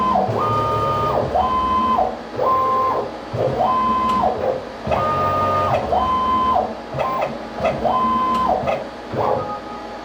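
A CNC machine runs its probing routine to find Z height and the corner of the stock, giving repeated electronic tones in a regular sequence of stepped beeps with faint mechanical sounds between them.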